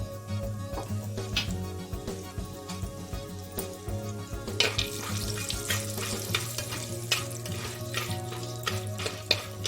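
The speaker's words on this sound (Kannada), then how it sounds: "ಈಗ ಇದೆಲ್ಲ ಫ್ರೈ ಮಾಡ್ಕೊಳ್ಳಿ." Cumin, chana dal, urad dal and peanuts fry in oil for oats kichidi, giving a soft continuous sizzle with stirring scrapes and taps in the pan, mostly under background music, with no talking.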